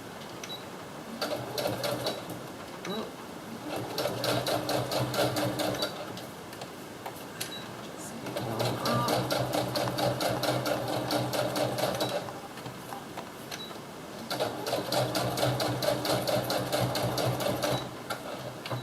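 A sewing machine stitches through a manila folder folio, running in three steady bursts of rapid, rhythmic mechanical clatter separated by brief pauses, close and clear with no talking.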